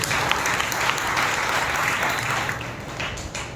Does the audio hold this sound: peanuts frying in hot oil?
no